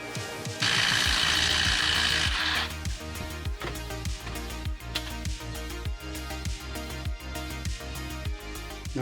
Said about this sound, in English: we have to undo these two bolts and take the caliper off